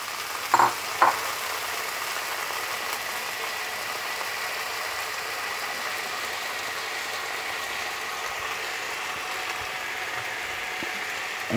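Taro stolons added to a pan of fried onion, two sharp clatters as they drop in, then a long, even, fairly quiet frying sizzle.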